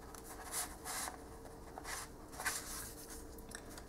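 Soft, quiet paper rustles and light creasing as a paper corner is folded down on a handmade album, in a few brief scuffs with no talking.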